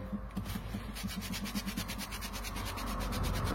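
A workpiece is rubbed clean and degreased by hand before painting. Quiet, rhythmic back-and-forth rubbing strokes repeat steadily, then blur into a continuous soft scrubbing with no talk.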